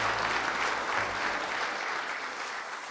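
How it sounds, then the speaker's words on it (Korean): Sustained applause from a large audience at the KBS president's inauguration ceremony, steady dense clapping that holds for the whole stretch before easing slightly at the end. "다시 한번 좀 큰 박수 부탁드립니다."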